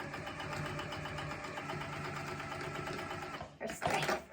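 A sewing machine runs steadily, stitching double seams in shapeshifter vinyl for a zipper case, a close, even mechanical hum that stops abruptly near the end, followed by a brief handling rustle.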